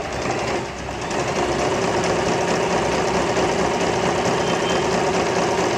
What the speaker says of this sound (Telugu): ఈ మిషన్ ఎన్ని రకాల స్టిచ్చెస్ని, ఎన్ని రకాల వెరైటీ స్టిచ్చెస్ని మనకి ఇస్తుంది